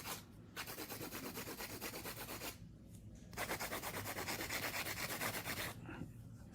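A fingernail is hand-filed with a steady back-and-forth rasping that runs close and continuous, broken by two short pauses, with no talking.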